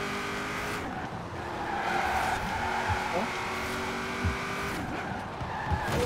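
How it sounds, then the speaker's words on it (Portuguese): A classic muscle car brakes hard and skids in the Forza Horizon 4 racing game, with a sustained tire squeal over engine roar, while a player's voice murmurs faintly underneath. "Vou frear aqui, porque senão dá ruim."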